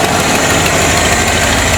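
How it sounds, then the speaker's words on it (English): A Ford F250 with a reverse vacuum supercharger idles with an exhaust leak on one side, giving a loud, steady, rumbling engine drone with a raspy edge, close up and without speech. "I've got an exhaust leak on this side here."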